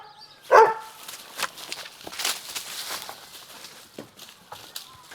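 Dog barking outdoors at a tent pitch in New Zealand, one sharp loud bark near the start followed by faint rustling, footsteps and scattered small sounds.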